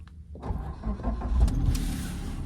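A Suzuki Ignis engine cranks and catches via the push start button after a short quiet moment, then settles into a steady, close idle hum.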